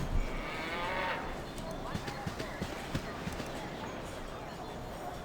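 A cow lowing in Baldur's Gate Enhanced Edition, one drawn-out moo near the start, followed by soft hoof-like clopping with a voice talking over it.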